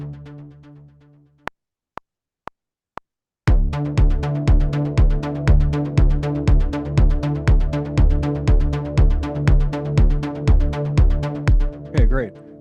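A synthesizer arpeggiator pattern starts after a few sparse clicks, then plays a fast, steady stream of evenly repeating tonal notes, loud and close, with no talking.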